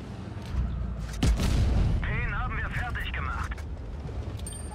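A Grille 15 tank destroyer's cannon fires once in a tank video game, a sharp loud boom that rings out briefly, with someone talking before and over the shot.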